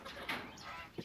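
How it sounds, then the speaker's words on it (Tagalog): Young chickens on a farm give a few faint, brief clucks and chirps over a noisy, hissy background. "yung ating mga manok talagang sigla sila."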